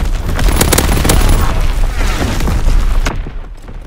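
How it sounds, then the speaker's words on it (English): Incoming enemy artillery strikes in a combat video game on a Gibraltar map, a loud continuous barrage of booming explosions and crackling bursts that fades out near the end. "Incoming enemy artillery."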